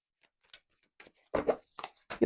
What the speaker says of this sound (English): Let's just do one more shuffle on this.